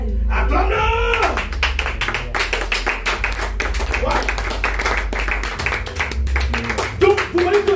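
A church congregation claps in acclaim, a dense, steady run of hand claps lasting several seconds, mixed with voices and a loud preacher's speech throughout.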